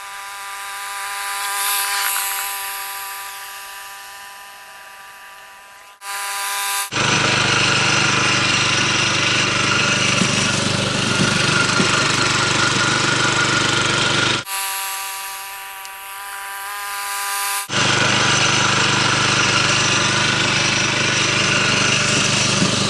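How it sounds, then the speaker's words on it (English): A greens mower cuts a golf green in back-and-forth passes, a loud steady engine and reel drone that fades on the turns and then surges back at full strength, with no talk. "So why don't we go ahead and we'll finish mowing the other half of the green"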